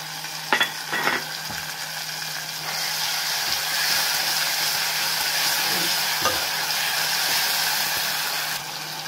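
Ginger garlic paste fries in a pan for an anapa pappu curry. A steady hiss and sizzle is punctuated by a couple of clinks early on, then grows fuller and louder as stirring continues.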